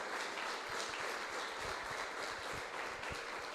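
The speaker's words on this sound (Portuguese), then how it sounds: "Você pode aplaudir ao Senhor, aleluia!" A church congregation claps together in steady, rhythmic applause, a close, full wash of hand claps that holds evenly throughout.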